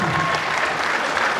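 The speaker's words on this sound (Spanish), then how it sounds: "Fuerte el aplauso al doctor José Luis Punzo." Audience applause for Dr. José Luis Punzo at a lecture on Purépecha metalwork, a short, dense patch of crowd clapping, fairly loud and even.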